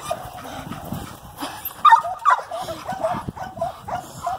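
Puppies bark, yip and whimper at a hog, a close, uneven flurry of high-pitched yaps and whines that comes in irregular bursts.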